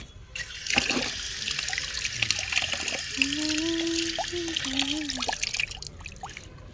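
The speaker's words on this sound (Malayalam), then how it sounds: "പൈപ്പിൽ കയറി കൈ കഴുകിയിട്ട് വരാവേ" Tap water runs steadily while sticky jackfruit sap is washed off hands at an outdoor pipe, a continuous trickling splash under bird calls, with a voice speaking briefly near the start.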